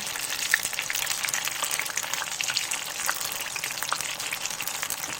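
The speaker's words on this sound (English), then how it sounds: "It's been like 3 minutes so far frying this." Spring rolls (popiah) frying in hot oil give a steady, dense sizzle with fine crackling bubbles, close and continuous with no talking.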